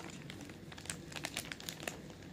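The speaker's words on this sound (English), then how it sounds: "tear it open little by little" Packaging being torn open by hand without a knife or scissors, with quiet crinkling and small tearing rips in short bursts, faint and close.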